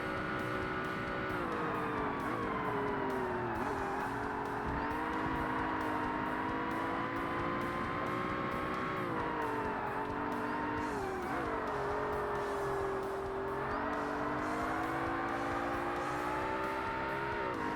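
High-powered race cars, including a Pagani Zonda, screaming around a track in Forza Motorsport, engines droning and shifting pitch steadily as they accelerate and brake, loud and continuous with tire noise mixed in.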